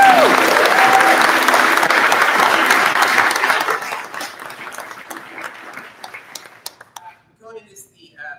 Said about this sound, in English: everybody clap for Conan.